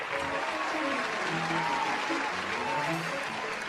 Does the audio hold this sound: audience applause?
yes